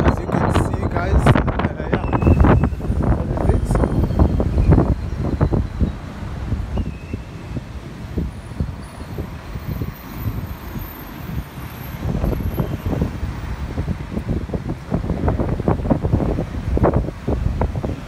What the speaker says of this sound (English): A little bit windy, as you can see